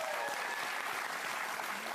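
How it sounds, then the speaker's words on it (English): Studio audience applause on a late-night talk show, full dense clapping that stays steady for the whole two seconds. "Round of applause for Maurice Mulliker."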